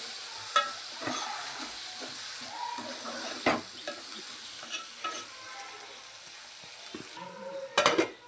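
Tomatoes frying for chicken curry, being stirred in a pan: a steady close sizzle with repeated scraping stir strokes and light utensil clinks, a few louder knocks near the end.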